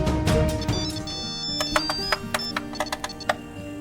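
A phone ringtone plays a bright electronic melody of short tonal beeps in an Indonesian drama scene, rising over a low background.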